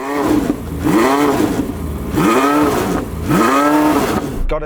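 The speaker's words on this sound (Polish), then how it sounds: "Jestem jedynym samochodem z turbodoładowaniem, więc posłuchajmy V8 wolno sącego." A turbocharged V8 supercar, lined up in a race against other hypercars, revs three times in a row; each sweep climbs steeply in pitch, then falls away, loud and close with no voices over it.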